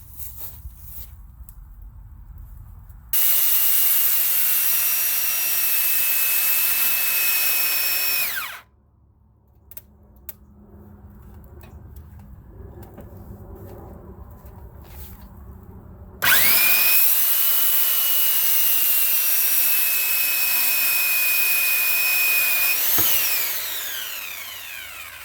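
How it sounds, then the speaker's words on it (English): A circular saw cuts bathroom flooring inside a 1974 Silver Streak trailer in two long, loud, whining runs separated by a quieter pause, each ending as the blade spins down, with no talking. "so I have my circular saw out"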